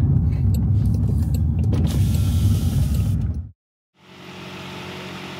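A car driving through afternoon traffic, steady loud interior road and engine rumble that cuts out abruptly to near silence, then resumes more quietly.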